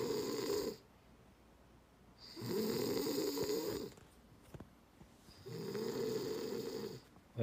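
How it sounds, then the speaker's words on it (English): A sleeping person snores loudly in slow, regular cycles, three long rasping breaths separated by quiet pauses, heard close up with no talking. "you're snoring very loud."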